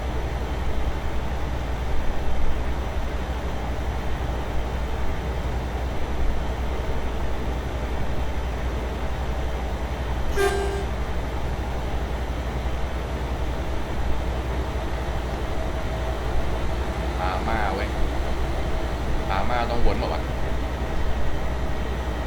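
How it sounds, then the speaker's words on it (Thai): A train passes in Euro Truck Simulator 2 on an Italian route between Bologna and Parma. It rumbles past at moderate volume over the constant low drone of the truck's engine. "โอ้รถไฟมา เว้ย โอ้รถไฟแม่งเร็วกว่าเราเยอะ"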